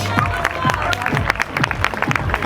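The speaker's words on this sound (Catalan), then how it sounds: "Bon aplaudiment per ells." An audience at a rally award ceremony in Lloret de Mar applauds, with loud, close clapping mixed with crowd murmur and voices throughout.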